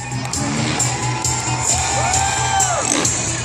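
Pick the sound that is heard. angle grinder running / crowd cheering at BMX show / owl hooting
crowd cheering at BMX show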